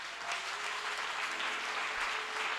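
A church congregation at a Sunday service applauds steadily and fairly evenly, a broad sustained wash of many hands clapping without a break.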